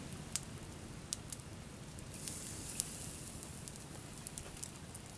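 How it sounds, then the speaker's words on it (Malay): Oysters roasting directly in an open fire by a river after foraging, giving a steady low crackle and hiss with scattered sharp pops and sizzling snaps, close and fairly quiet, with no talking. "Tuh tiramnya, bosku, lagi dibakar."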